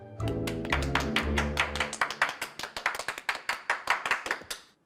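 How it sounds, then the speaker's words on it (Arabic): Loud applause from a studio audience at a Ramadan comedy show, a burst of dense clapping that thins into separate rhythmic claps before stopping, heard alone without talk. "تصفيق حاد بعد إذنكم"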